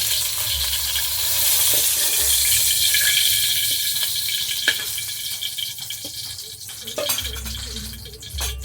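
Eggplant frying in hot oil after beans, a continuous sizzling hiss with occasional stirring clatters and pops throughout.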